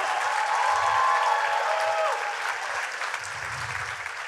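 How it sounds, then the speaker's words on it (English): A youth convention audience applauds keynote speakers in a sustained, fairly loud wash of clapping that eases slightly toward the end, with a few scattered voices mixed in. "Let's give them one more round of applause"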